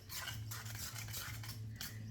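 Wonton filling mixed in a bowl with a utensil, soft repeated scraping and clinking strokes in a steady rhythm, close and fairly quiet.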